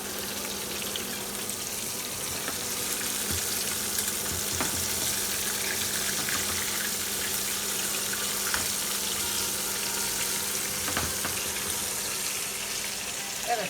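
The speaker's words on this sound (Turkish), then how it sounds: "balıklarımız kızarıyor." Continuous loud sizzling and crackling of fish frying in olive oil and butter, steady throughout with occasional pops and light clatter.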